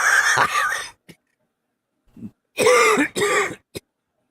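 A burst of harsh, throaty coughing, a pause, then several more hacking coughs in quick succession, loud and close.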